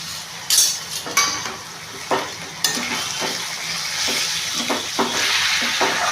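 Beans, carrots, potatoes, peas and chicken mince stir-fry for fried rice in a pan, giving a loud, close, steady sizzle punctuated by repeated scraping strokes of a spatula every second or so.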